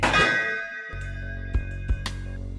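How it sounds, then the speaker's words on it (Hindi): A Hindu temple bell rings at the opening of a song: one bright metallic clang swells into a long shimmering ring, then two lighter strikes follow as the tone sustains. "वीडियो की शुरुआत होती है मंदिर की घंटी से।"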